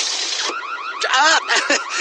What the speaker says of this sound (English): Turns out the alarm works.